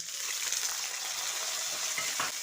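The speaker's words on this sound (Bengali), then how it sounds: "টমেটোটাকে এবার একটু ভালো করে ভেজে নিচ্ছি" Chopped tomato fries with black cumin and dried chilli in a pan, a dense, even sizzle close up with faint stirring scrapes over it.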